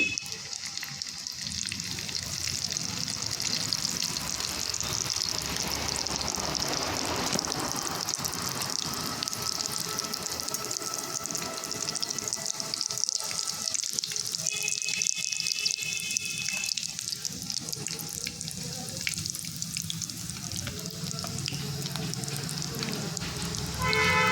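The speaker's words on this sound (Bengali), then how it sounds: "একইভাবে সবগুলোই ভেজে তুলে নিচ্ছি" Vegetable chops made with winter vegetables frying in hot oil give a steady, loud, close sizzle that crackles without pause for the whole stretch, with a few faint kitchen clinks along the way.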